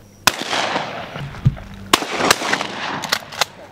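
Shotgun blasts ring out during a dove hunt on an Arizona desert farm, several sharp reports spaced irregularly over a few seconds, some close and loud, others fainter, with wind and faint voices in the background.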